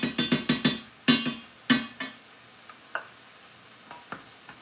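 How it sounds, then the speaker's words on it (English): A spoon clinks and scrapes in a pot of chicken soup broth with a thick tomato-sauce-like body, in a quick cluster of sharp strokes, then a few spaced, fading knocks, close and fairly loud. "I'm going to give this a nice stir around."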